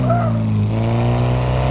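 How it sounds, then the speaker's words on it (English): A car engine in Car Mechanic Simulator 2026 revs loudly and up close, a sustained strong harmonic drone that rises slightly in pitch as the revs climb. "Listen to that engine."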